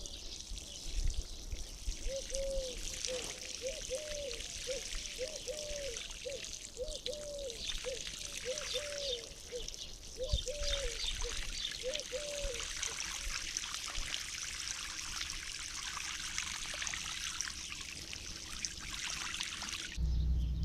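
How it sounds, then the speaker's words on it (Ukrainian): Water pours steadily for a long stretch, a continuous hissing trickle, with a repeated chirping call in the background for the first half. "Наливаю водичкой."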